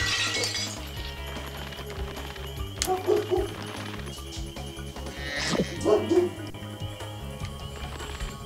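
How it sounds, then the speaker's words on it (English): Dog barking in Spyro: Enter the Dragonfly on the farm level Crop Circle Country, a few barks and yips rising over steady game music and effects with a short glassy crash. "And there goes the dog again."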